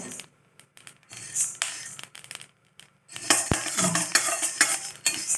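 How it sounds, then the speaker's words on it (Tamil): Coriander seeds dry-roasting in a pan, giving light clinks and rattles as they are stirred, sparse at first and then a busier, louder scrape-and-clatter in the second half. "அது வரைக்கும் கொஞ்சம் வறுத்துக்கணும் இதுலேயும் ஒரு சவுண்டு வருது"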